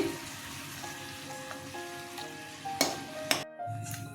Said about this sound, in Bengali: সিমে দিয়ে দিয়ে ভাজছি আমি